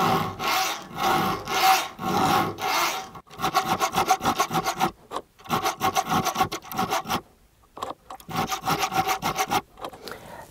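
A hand file sharpening the teeth of a Stihl GTA 26 cordless mini chainsaw chain, with steady, close, rasping strokes in quick repeated bursts separated by brief pauses, loud and alone without speech.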